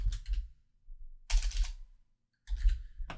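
Bursts of quick keyboard typing come in three clusters separated by short pauses, close and clear, with no voices.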